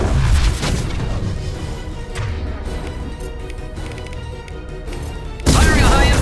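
A high-impact weapon shot fired in the sci-fi shooter Mass Effect 2, heard as loud booming gunfire bursts with a dense, rumbling tail, a heavy blast returning at the end amid game sound.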